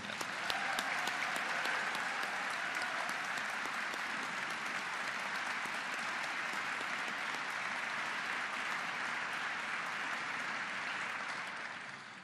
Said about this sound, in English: Could you have a round of applause for that?